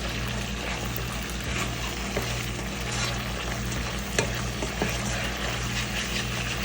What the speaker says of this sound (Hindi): अब हम इसमें डालते जाएंगे और इसको थोड़ा सा यूँ मिक्स करेंगे ताकि हमारी जो सॉस है उसमें थिकनेस आ जाए